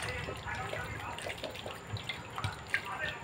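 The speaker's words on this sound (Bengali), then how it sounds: "আর দেখুন এই যে আমি জল দিয়ে দিচ্ছি" Water is poured onto corn in a pot, a low trickling and splashing with a few drips, under a faint voice in a quiet kitchen.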